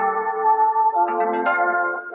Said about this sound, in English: sometimes I just have my theme song, the podcast theme song that I use for YouTube videos as well